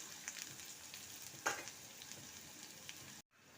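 Onions with a little ginger frying gently in oil for dahi tadka, cooked only until translucent: a soft, steady sizzle with one brief stir scrape partway through, then a sudden cut to near silence.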